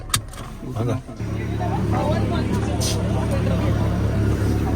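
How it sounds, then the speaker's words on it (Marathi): A car pulls up and idles with a steady low engine hum, close by, on a road trip through Rajasthan, while people talk nearby. "सो आमची गाडी आली आहे आम्हाला घेऊन जायला."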